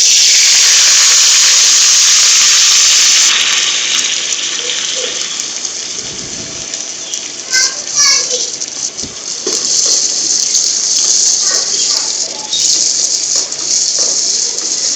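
Three medium-sized chopped onions go into hot cooking oil for keema aloo, setting off a loud, bright hiss and crackle of frying that eases, then surges again with scattered spits and stirring sounds.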